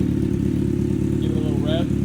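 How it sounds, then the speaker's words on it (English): A 2023 Kawasaki Z900 motorcycle idling close by, its engine putting out a steady low, even rumble with a couple of faint higher chirps near the end. "so we're gonna start it here. Real nice idle."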